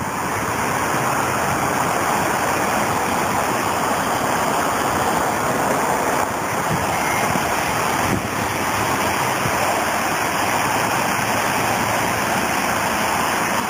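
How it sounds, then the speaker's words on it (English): Rain-swollen waterfall or spillway on Los Gatos Creek, a constant dense rushing roar of falling water, loud and close with no pauses. "there's the waterfall, or the spillway, whatever you want to call it"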